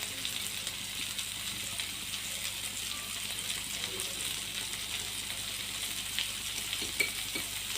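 Tomatoes sautéing in a pan for macaroni make a soft, continuous sizzle with faint stirring scrapes and a brief louder clink near the end, fairly quiet and without talk.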